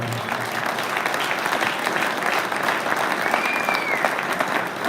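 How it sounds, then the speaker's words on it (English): An audience at a national championship awards ceremony claps in a steady, even round of applause that fills the whole stretch, heard from within the crowd with only faint voices underneath. "give him a big round of applause"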